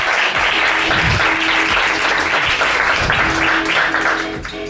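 Steady, loud applause from an audience at a live Spanish-language podcast recording on German politics, dense clapping filling the room for several seconds before easing slightly at the end.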